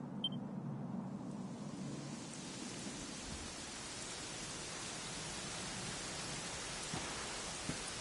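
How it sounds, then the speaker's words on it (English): Steady rain falls in the Dragon Quest XI video game, a continuous soft hiss that holds evenly throughout with no other sounds over it. "it was raining like this the last time I ever saw her"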